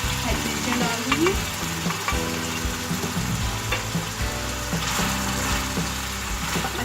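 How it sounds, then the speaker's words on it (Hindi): Onions, chonga and green chillies frying in a pan for keema chonga, a continuous sizzle broken by repeated stirring scrapes and clicks of a utensil against the pan. "प्याज और चोंगे डाल दूंगी। हरी मिर्चें डाल दूंगी।"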